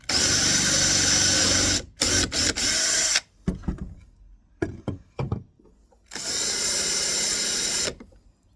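A power drill bores a hole into a Freelander 2 headlight mount with wood backing underneath, two loud sustained bursts of whirring separated by short clicks and knocks, close and alone.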